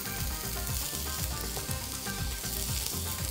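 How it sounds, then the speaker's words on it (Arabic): Onions frying in oil in a pan, a steady close sizzle that holds evenly throughout with faint crackles, for a potato and legume salad. "عايزه البصل بتاعنا يتحمر شويه ويبتدي يخش في السوا"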